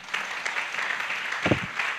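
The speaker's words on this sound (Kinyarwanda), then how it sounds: "nanone bayimpera amashyi" Audience applause, a dense patter of clapping from a crowd at a gathering, sustained and moderately loud for about two seconds.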